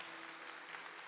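Brief, steady applause from a church congregation during a sermon, filling the clip evenly and a little distant, with no talk over it.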